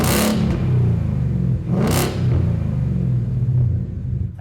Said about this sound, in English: Right away at idle, you can hear that deep tone.